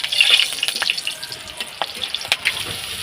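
Green chillies drop into hot oil in a pan and set off a steady hissing sizzle with crackling spits and pops that stays close and fairly loud throughout, with no voices over it.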